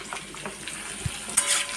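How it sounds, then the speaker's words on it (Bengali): Oil and sugar frying in a wok, browning to a deep red, give a steady close sizzle with a few scraping stirs and a louder burst near the end. "কড়াইয়ে একটু তেল, একটু চিনি দিয়ে লাল করে ভেজে নিচ্ছি।"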